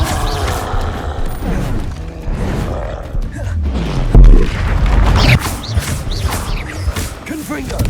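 Spellcasting in the Hogwarts Legacy video game, with the Incendio fire spell among Confringo and Depulso casts: loud, dense booming blasts and roaring whooshes over continuous game effects, with a heavy impact near the middle.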